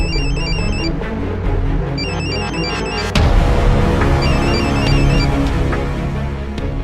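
A telephone rings in repeated bursts of a bright electronic ringtone during a dramatic scene, laid over loud tense background music, with a sudden louder musical hit partway through.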